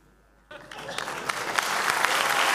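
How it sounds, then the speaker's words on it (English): Audience applause during a conference talk at the 28C3 hacker congress, clapping that starts abruptly after a quiet moment and swells into steady applause from a large hall. "I mean, don't applaud me,"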